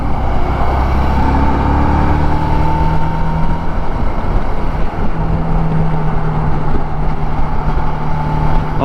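Suzuki V-Strom 650 V-twin motorcycle engine droning steadily while riding, a loud continuous low rumble mixed with wind noise, holding near-constant pitch with slight rises and falls.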